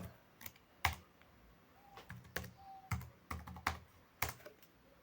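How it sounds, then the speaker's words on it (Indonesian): Typing on a computer keyboard while entering data into a spreadsheet: close, irregular key clicks in short bursts with brief pauses between, fairly quiet and alone without talk. "kita klik B1, kita mau masukkan dengan mengetiknya secara langsung ya"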